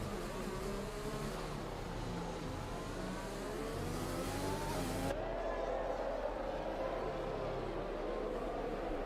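A race car engine heard from onboard in a racing video game at the Mexico circuit, holding a steady loud drone that rises and falls with revs and shifts through the gears, with no talking.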